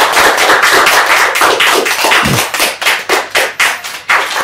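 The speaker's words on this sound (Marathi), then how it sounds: "सो त्यांच्या मम्मीसाठी एकदा खूप खूप टाळ्या." Applause from a group honouring a student's mother at a placement celebration, a dense burst of many hands clapping close by that breaks into separate louder claps toward the end.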